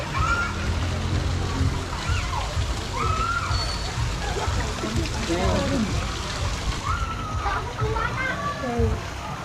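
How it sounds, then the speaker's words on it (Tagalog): Water pours steadily from above into a constructed pool at a resort, a continuous splashing rush close by, while people talk over it and children's voices carry in the background. "Parang nanggagaling yung tubig sa taas sa ginawang pool."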